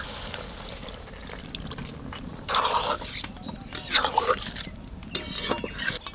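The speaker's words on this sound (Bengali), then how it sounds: "সামান্য একটু জল দেবো।" A little water is poured onto meat in a cooking pot, giving a few brief splashing trickles with faint clinks of utensils, while a person talks.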